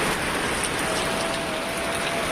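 Heavy rain pours down steadily in a rural village, a dense, continuous hiss of drops drumming on surfaces, close and loud throughout with no voices.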